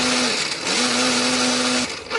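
Electric blender grinding a spice paste with pepper and added water or oil, a loud steady motor whine that dips briefly and then resumes, running alone.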